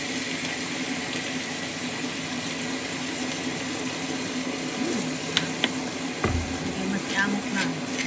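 Goat stew (sinampalukang kambing) in a pot after fish sauce is added: a steady, even sizzle and simmer, with a brief liquid splash and a few small clinks near the end.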